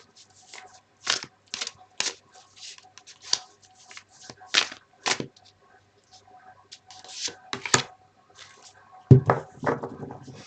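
Tarot cards are shuffled close up in a run of crisp riffles and snapping flicks, with quiet gaps between bursts and a brief rustle of handling near the end.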